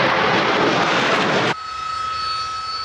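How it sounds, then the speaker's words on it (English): Loud, close roar of a Harrier jump jet engine, a broad steady blast that cuts off abruptly partway through, leaving a high whine and tonal hum. "The reason that the Harrier can perform these incredible manoeuvres is its extraordinary engine system."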